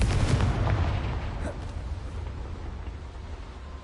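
A Confringo spell blast in the Hogwarts Legacy video game on PS4 lands as a loud booming burst at the start, then decays into a rumbling tail that fades over a few seconds.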